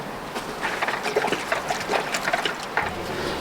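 Water splashes and trickles as a scrubber block is rinsed out, close, uneven gurgling and dribbling in short bursts, with no talking.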